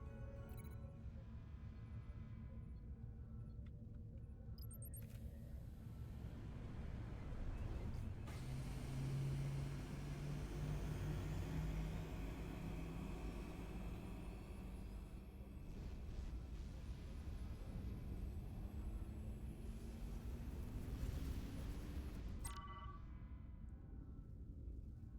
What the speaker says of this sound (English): Resolute to shuttlecraft Melville. You're cleared for takeoff.